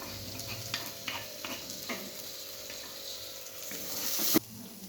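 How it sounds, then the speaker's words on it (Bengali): Chopped tomatoes and green chillies go into a spice paste frying in a pan for dhaba-style dal fry, giving a steady close sizzle with scattered stirring scrapes and a brief louder clatter near the end. "এবার আমি দিয়ে দিচ্ছি কেটে রাখা টমেটো আর কাঁচা লঙ্কাগুলো।"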